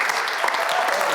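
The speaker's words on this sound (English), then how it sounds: "Round of applause" A studio audience applauds in a quiz-show setting, a short, even burst of moderate clapping with no voices over it.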